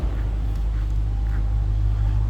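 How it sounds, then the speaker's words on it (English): A 2015 Dodge Challenger R/T Scat Pack idles close behind the car, giving off a steady, deep, low exhaust rumble with no revving. "Nice, deep, throaty exhaust note."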